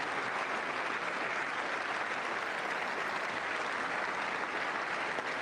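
Dense, steady applause fills a large chamber at the State of the Union address, a continuous wash of many hands clapping without pause, with no voices standing out.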